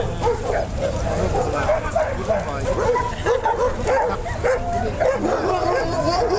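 Yakutian Laika dogs barking and yipping at a dog show, a dense run of overlapping barks and whimpers close by, with people talking throughout.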